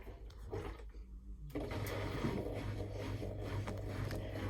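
A Miele Super Tronic W5000WPS washing machine spinning at its slowest 400 RPM setting, a steady low hum and whirring drum with a rhythmic mechanical rumble that rises after a brief lull, fairly close and continuous.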